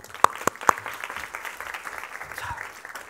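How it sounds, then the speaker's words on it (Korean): Church audience applauding, a few sharp individual claps at first followed by a soft, steady wash of clapping that stays fairly distant and low throughout. "박수 한번 주세요."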